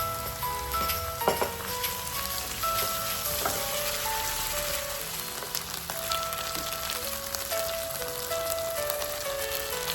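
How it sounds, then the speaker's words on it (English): Ginger garlic paste sautéing in a pan for pork vindaloo gives a steady, rain-like sizzle and occasional stirring clatter, heard under light background music. "Now add some ginger garlic paste and have to saute well."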